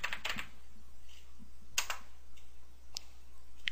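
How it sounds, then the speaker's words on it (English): A search term typed on a computer keyboard in a code editor: a few quiet, sparse keystroke clicks with short pauses between them, no speech. "Type in your search term in the text box."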